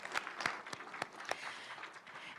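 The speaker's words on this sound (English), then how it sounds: "We can clap for that." A small gathering at a panel discussion on religion and an election claps faintly and sparsely. A handful of distinct, separate claps land at uneven intervals over quiet room tone.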